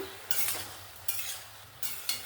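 A spoon stirs bottle gourd curry with chickpeas in a frying pan, with three or four scraping strokes over a soft sizzle, close and alone.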